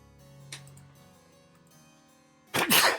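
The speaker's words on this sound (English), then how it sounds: "Gesundheit." A person sneezes once, loud and close, in a sudden harsh burst near the end that follows a quiet stretch with only faint background hum.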